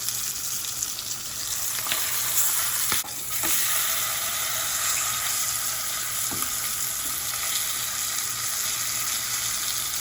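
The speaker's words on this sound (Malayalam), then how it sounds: "മറ്റേ സൈഡോടെ ഇതുപോലെ ഒരു 5 മിനിറ്റ് നമുക്കിതൊന്ന് ഫ്രൈ ചെയ്തെടുക്കാം" Pearl spot fish (karimeen) frying in a pan, giving off a steady, close hissing sizzle with a few faint clicks and pops.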